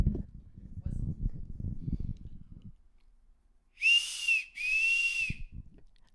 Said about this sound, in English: It whistles.